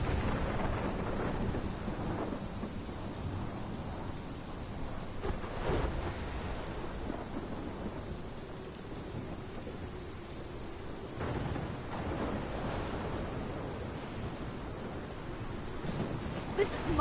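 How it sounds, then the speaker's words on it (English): Thunderstorm in the video game Life is Strange: heavy rain hissing continuously with deep rumbling thunder rolls swelling several times, loud and close, with no talk. "This is my storm."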